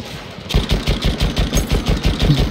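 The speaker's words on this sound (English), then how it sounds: "there's so many guys shooting" Many soldiers fire weapons at once in Battlefield 1, a dense, fast rhythmic rattle of close automatic gunfire that continues without a break after a brief quiet opening.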